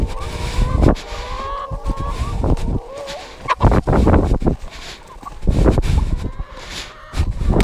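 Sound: chickens clucking in a pumpkin patch

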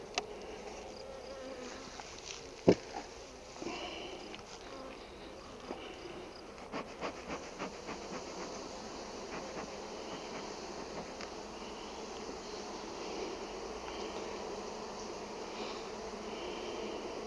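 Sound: bees buzzing at hive

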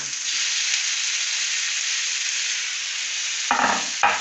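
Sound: tuna and tomato sautéing in a pan

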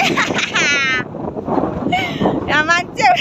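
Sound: strong cold wind blowing outdoors in Mustang

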